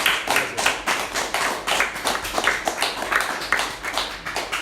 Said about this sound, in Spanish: un aplauso a Fernando, muchas gracias por venir